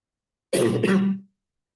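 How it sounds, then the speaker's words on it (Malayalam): A single short, rough throat clearing with a slight cough from a person with a cold, close and alone in silence. "എനിക്ക് ചെറിയൊരു ജലദോഷത്തിന്റെ ബുദ്ധിമുട്ടിലിരിക്കുകയാണ്. അതുകൊണ്ട് ഇടയ്ക്ക് ചുമ വരും."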